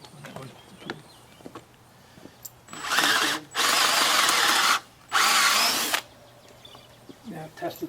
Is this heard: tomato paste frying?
no